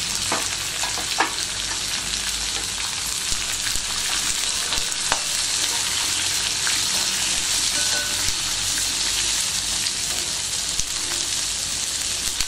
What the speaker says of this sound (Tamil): பூண்டு, வரமிளகாய் இதையும் போட்டு வதக்கிடுறோம்.